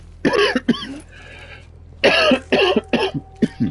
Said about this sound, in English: Gosh, this cough.